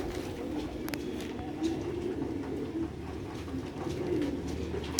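Sialkoti pigeons coo continuously in low, soft, overlapping calls, with a faint flutter of wings and steady background noise.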